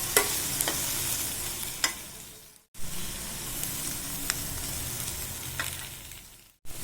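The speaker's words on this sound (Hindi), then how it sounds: "1/2 टीस्पून धनिया गुंड, 1/2 टीस्पून जीरा गुंड एवं या भल भाव मिक्स करदेबा" Coriander and cumin powder stirred into a hot pan for Malabar spinach curry, with close sizzling and frying hiss, sharp scraping stirs, and two brief pauses where the sound drops out.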